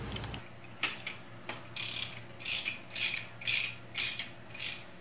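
A ratchet clicks in short repeated bursts while installing an oil sending unit on a third-generation Chevrolet Camaro, close and fairly loud with brief pauses between strokes.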